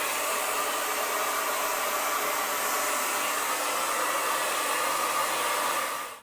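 A hair dryer blasts steadily on its high setting while drying freshly painted shoes, a loud, even rush of air held for several seconds before it is switched off at the end.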